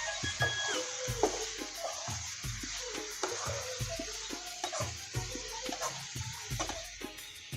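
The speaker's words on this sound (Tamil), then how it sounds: "சிக்கனை போட்டு இந்த வெங்காயத்தை கூட போட்டு நல்லா வதக்கணும்" Chicken pieces and onion sautéing in a pan, a bright continuous sizzle broken by regular scraping strokes of a spatula, heard up close and fairly loud throughout.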